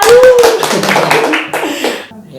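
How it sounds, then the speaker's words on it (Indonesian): An audience claps at a student association dialogue event, with a burst of hand claps under voices and a bit of laughter that trails off toward the end. "Jadi tepuk tangannya pria."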